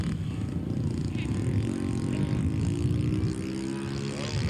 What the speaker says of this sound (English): Dennis Welty on a touch and go